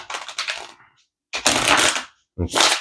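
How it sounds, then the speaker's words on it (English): Tarot cards are shuffled in three bursts of dense, crackling flutter, loud and very close, separated by brief silences. "let's get one more shuffle"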